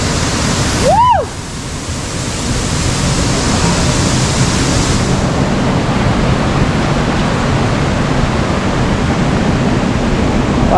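Steady broadband rush of Concord Waterfall in Grenada, close and constant, with a brief rising whistle-like tone near the start.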